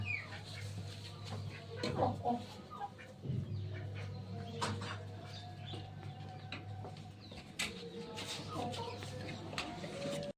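Chickens cluck intermittently nearby over a low steady hum, with a few louder squawks and some voices in the background.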